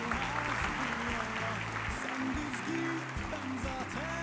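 An awards-ceremony audience applauds steadily as a pop singer comes on stage, the clapping dense and sustained under music and a host's voice.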